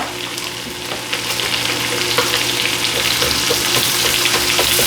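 Sliced onions fry in pork fat and butter for smothered pork chops, a loud, steady sizzle and crackle with some stirring, rising slightly as it goes.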